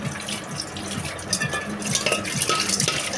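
Dishes and bowls being washed at a home sink, with steady running water and soft clinks and scrapes of utensils and crockery close by, continuous over a few seconds without talk.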